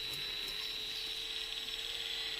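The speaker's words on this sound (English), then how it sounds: "I'm currently honing the cylinder" A cylinder on a Honda CB125F engine is being honed, giving a faint, steady mechanical whir with a thin high whine, close and continuous.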